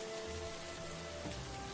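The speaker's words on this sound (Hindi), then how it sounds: "बारिश और तेज हो गई।" Heavy rain falling steadily as a story sound effect, a dense continuous hiss with a low rumbling undertone, even and unbroken throughout, with no voices.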